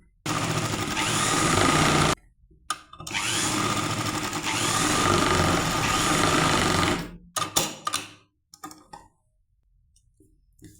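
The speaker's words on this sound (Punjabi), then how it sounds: "ਹਾਂਜੀ ਆਪਾਂ ਮੋਢਿਆਂ ਤੇ ਸਿਲਾਈ ਲਾਉਣੀ ਆ" A sewing machine stitches the shoulder seams of a shirt, running in steady buzzing bursts of a few seconds each with short pauses between, then a few clicks and quick stops before falling silent.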